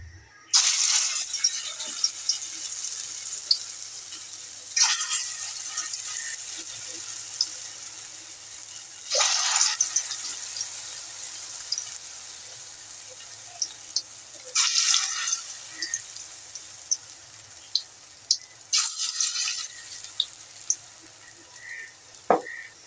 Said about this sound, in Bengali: এইভাবে আমি সবটি পেঁয়াজি ভেজে নেব